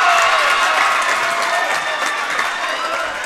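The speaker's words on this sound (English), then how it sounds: "Barneville faithful cheering for their player" A basketball crowd bursts into applause and cheering after a made free throw, a dense wash of clapping and voices that slowly fades over a few seconds.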